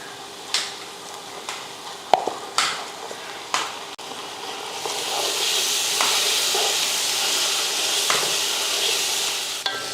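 Ginger garlic paste sizzling and frying in a pan for mutton biryani, a steady bright hiss that swells midway, with occasional stirring clinks and scrapes and no voices.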